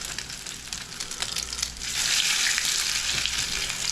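Salmon fish cakes fry in hot oil, giving a close, bright crackling sizzle that swells louder partway through and stays steady, with no voices.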